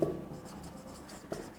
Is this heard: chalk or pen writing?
yes